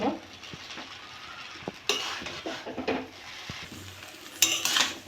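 Chowmein being stirred and tossed in a pan with Maggi masala, a soft scraping hiss broken by sharp clinks of a utensil against the metal at irregular moments, including a bright burst near the end.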